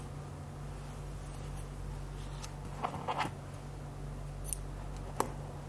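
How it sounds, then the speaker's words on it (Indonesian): Scissors snipping fabric pieces for a square tote bag, a few quiet, sharp cuts clustered in the middle and toward the end over a faint steady background hum, with no talking. "Bisa gunting."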